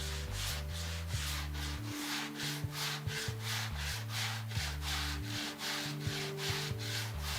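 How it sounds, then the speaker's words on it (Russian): A gypsum putty rose bas-relief is sanded by hand to remove a layer of filler, giving steady rhythmic back-and-forth rasping strokes over continuous background music. "Так мы снимаем слой шпаклевки,"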